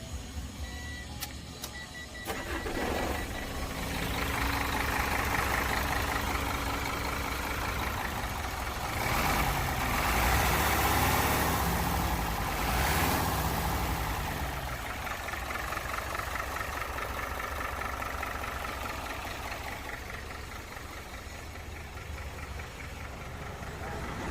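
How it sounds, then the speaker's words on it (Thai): A Hino Mega Cab JO7E truck with a 210-horsepower engine starts up and settles into a steady diesel idle, a continuous rumble with knocking texture running loud and close throughout, with brief clatter at the start. "เดี๋ยวติดเครื่องให้ฟังกันนะคะ"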